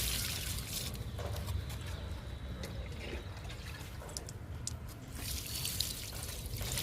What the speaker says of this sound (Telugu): పాలకూరకి ఇస్తున్నానండి లిక్విడ్.